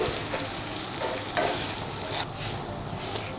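Besan being stirred into a Gujarati sambharo in a pan, giving a steady close sizzle with soft scraping stir strokes throughout and no talk.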